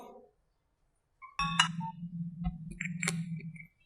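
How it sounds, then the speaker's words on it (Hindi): A mobile phone call tone sequence: short dialing beeps followed by a steady low electronic ringing hum with a brief chirp, fairly quiet with no voices. "और मोबाइल से कॉल डायल करेंगे।"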